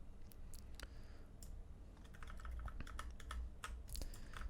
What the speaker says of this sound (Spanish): mantengo Alt apretado y voy a hacer clic en la siguiente